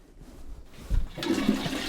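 A toilet flushing nearby, a sudden gurgling rush of water that builds and swirls loudly, with no talking over it.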